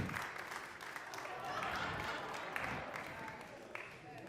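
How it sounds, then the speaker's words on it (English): An audience applauds steadily for a few seconds, with voices talking over the clapping. "Can I get another round of applause for my lovely assistants?"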